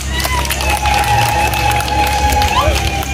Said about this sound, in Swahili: Tumpigie sana makofi Dr. Samia Suluhu Hassan.